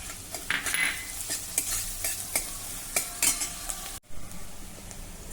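Onion and crushed garlic hit hot oil with fenugreek seeds, giving a bright crackling sizzle with clinking stirs of a utensil against the pan, close and loud, briefly cutting out before resuming.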